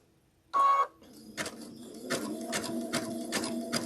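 Zigzag stitching on a sewing machine as fabric-covered rope is sewn into a small bowl, a loud mechanical burst followed by a steady rhythmic needle chatter, close and without talk.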